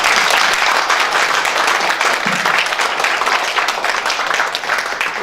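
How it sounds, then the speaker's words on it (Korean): Sustained, loud applause from a room of attendees at a Democratic Party for Peace central steering committee meeting, dense clapping filling the whole stretch without a break. "같이 박수로 일단 환영합시다."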